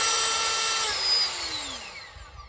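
A Worx Nitro leaf blower runs steadily at a high setting, a loud whining whoosh that winds down slightly in pitch toward the end, with no talking.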